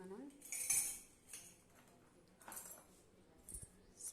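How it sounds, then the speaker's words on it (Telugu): A spoon clinks against a glass while stirring buttermilk with ice cubes and squeezed lemon, with sharp metallic taps and rattles in a few bursts, close but fairly quiet, with no talking. "స్పూన్తో బాగా కలిపేసుకుందాం."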